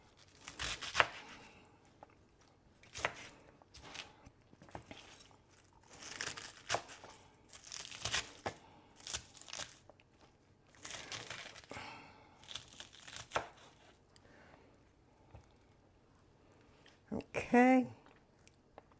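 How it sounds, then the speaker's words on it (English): Lettuce is cut up by hand in scattered crisp tearing and crunching bursts at close range, uneven in rhythm, with a short louder rustle near the end and quiet stretches between. "Just cut the lettuce up."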